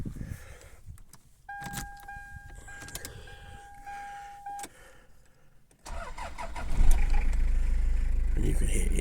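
A Toyota Hilux Surf cranks briefly and catches almost at once near the six-second mark, then runs on in a rough, rumbling idle close by after a quiet stretch of small cabin noises.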